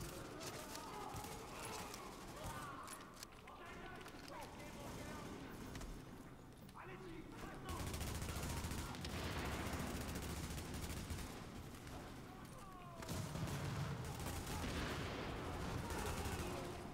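Rapid gunfire from a sniper engagement in The Division, loud bursts and cracks that repeat throughout, with battle noise swelling in later stretches and someone talking over the shooting.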